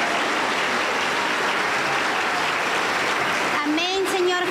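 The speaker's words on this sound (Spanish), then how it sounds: "la recibimos con fuerte aplauso para el Señor Jesús" Dense, sustained applause from a crowd at a Pentecostal church anniversary service in Huancayo, steady and loud, with a voice rising over it near the end.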